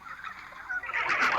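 Cartoonish pigeon cooing and fluttering calls in the Troll Face Horror mobile game, a busy run of bird sounds that grows louder and denser toward the end as several pigeons are tapped on screen.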